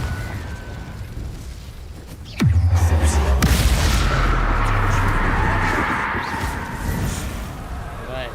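The Incendio fire spell from Hogwarts Legacy erupts with a sudden loud burst and a deep, rumbling low tail, then settles into a sustained roar amid ongoing game sounds.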